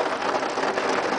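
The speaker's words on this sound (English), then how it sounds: "it's like completely just raining" Heavy rain hitting a house window, a dense continuous hiss of drops, loud and close, with no talk.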